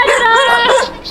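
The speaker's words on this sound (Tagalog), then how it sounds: "Daming aso. Nakakabahan tayo ng mga aso." Several dogs bark and yelp loudly and close by in an outdoor street setting. The burst is short and overlapping, with whiny, high-pitched tones.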